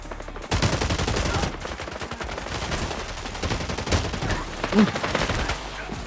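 Rapid bursts of gunfire from a shooting game played online in the Philippines, loud and dense almost throughout, with fast repeated volleys, while players talk over it.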